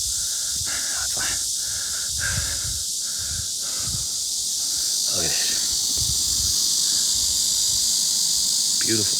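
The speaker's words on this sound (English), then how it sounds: "The background noise is the cicadas." Cicadas drone at the Great Wall of China, a steady high buzzing in the background throughout, with occasional breathy rustles and short bursts up close.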